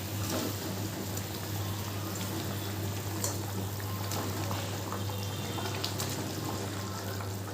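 Pieces of boal fish drop into a bubbling curry broth, heard as a faint steady simmer with soft splashes and low hum, close and quiet, with no voices.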